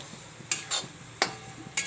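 Flour being roasted in ghee in a pan while a spoon stirs, sharp scraping strokes coming in four separate bursts over a faint sizzle, close up and without voices.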